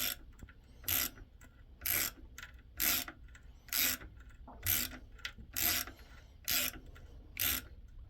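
Thread tap cutting threads into metal for a Weber IDA carburettor linkage, giving about nine evenly spaced, close, harsh ratcheting rasps roughly a second apart, with quiet gaps between strokes.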